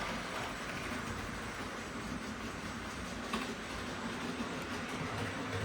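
A Bachmann model toy train runs along its track, a faint, steady rolling rumble with light clicking and no speech.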